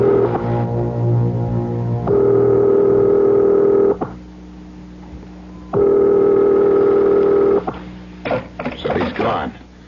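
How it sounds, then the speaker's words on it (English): A telephone in a radio drama sounds long steady electronic tones in two separated bursts, followed by a quick cluster of dialing clicks and handset noises near the end. "Dial. I'll call his private number."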